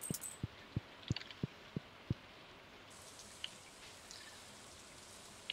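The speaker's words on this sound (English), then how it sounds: "Oh, it's raining." Rain in the video game Stardew Valley patters quietly as a soft, steady backdrop, with a series of evenly spaced, muffled thuds in the first two seconds and a few faint ticks later.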